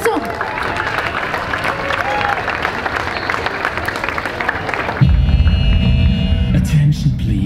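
A crowd at a Borås dance event gives warm, sustained applause for a dance group, a steady wash of clapping with murmuring voices, cut off abruptly after about five seconds by a loud electrical hum.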